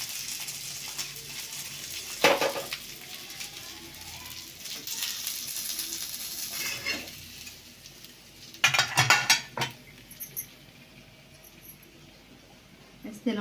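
Fish pieces frying crisp in hot oil in a Marathi home kitchen, a steady soft sizzle with a few louder clatters of utensils against the pan, heard alone and moderately close.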